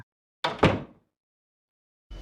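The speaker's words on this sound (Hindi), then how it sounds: "तभी पास ही के कमरे का दरवाजा खोलने का आवाज आया" Door of a nearby room opening in a 2D horror cartoon, two quick close thuds with a rattle that fade within half a second, then silence before another knock-like sound starts at the very end.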